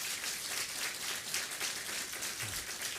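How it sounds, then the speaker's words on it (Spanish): Church congregation at a Quechua Sunday service applauding first-time visitors, a steady wash of clapping filling the room, fairly faint and continuous with no talk over it. "Ya aplauso puede dar, ¿no?"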